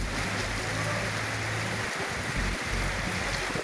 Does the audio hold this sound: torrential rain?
yes